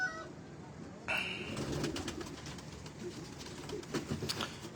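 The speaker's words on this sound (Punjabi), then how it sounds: "ਵੈਸ਼ੀ ਕਬੂਤਰ ਪਏ ਆ ਜੀ ਪਿੱਛੇ" Pigeons cooing in a breeders' loft, soft repeated coos close by over a quiet background, with faint human voices.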